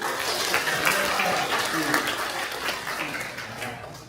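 Church congregation clapping during a Sunday worship service, a sustained burst of moderate applause from a crowd, with voices talking over it and slowly fading toward the end.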